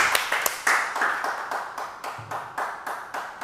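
An audience claps steadily for the singer at a music show in Agboville, with dense, bright applause from a small crowd nearby that fades slightly toward the end.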